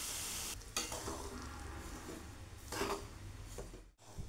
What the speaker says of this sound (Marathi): आता यामध्ये रवा टाकून कमी गॅसवर खमंग भाजून घ्यायचा आहे